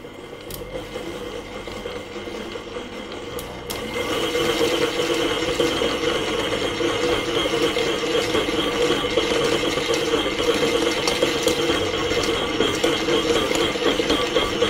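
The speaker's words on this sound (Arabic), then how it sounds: "ممكن تعجنيها في مضرب البيت كده بيبقى معاه برضو يد كده برضو للعجن" A home hand mixer fitted with dough hooks kneading pastry dough, a continuous whirring, grinding motor drone with rhythmic mechanical rattle that grows louder after a few seconds and stays steady and close.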